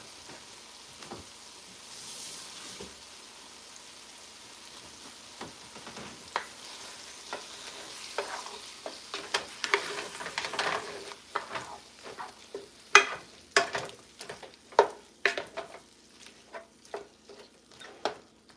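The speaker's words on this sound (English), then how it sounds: "So we're gonna start stirring that turkey up." Ground turkey frying in a pan while being stirred, with a soft steady sizzle and irregular scraping clicks of a utensil that grow louder and sharper toward the end.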